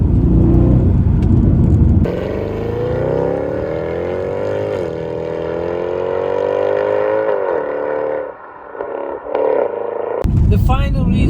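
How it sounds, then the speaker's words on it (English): A Mercedes C63 AMG W204 engine revs and holds a rising, throaty drone for several seconds, loud and close, with brief throttle blips near the end. "who wouldn't want a car that sounds like this"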